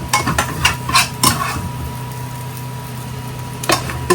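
Fried rice with an egg being tossed in a pan: a low steady hum with scattered metallic clinks and scrapes of a utensil against the pan, arriving in irregular bursts, with a faint sizzle underneath.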